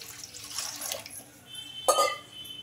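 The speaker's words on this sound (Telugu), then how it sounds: "వాటర్ అయితే వేసుకుంటున్నాను" Water runs from a tap and splashes into a kadai on the stove, ready for boiling spinach, a gurgling pour that swells and fades.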